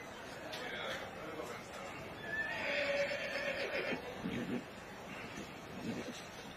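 A pony neighing in the main show ring at the Royal Welsh Show, a single whinny rising briefly mid-clip over steady outdoor crowd and wind noise, with a commentator talking underneath.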